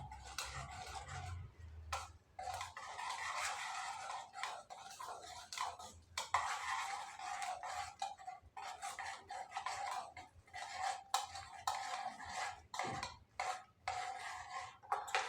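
A spoon stirs curd (dahi) in a bowl, making soft, irregular scraping and rubbing strokes that come and go in bursts, quiet and close.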